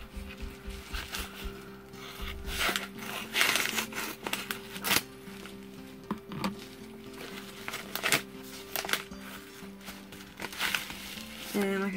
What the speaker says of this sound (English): Just gonna use scissors because I don't want to damage it.